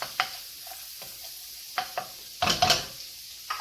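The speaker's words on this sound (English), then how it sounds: "I'm putting in some minced garlic." Minced garlic frying in oil in a pan for chicken Alfredo, with a faint steady sizzle broken by a few sharp utensil scrapes and a louder burst of stirring near the end.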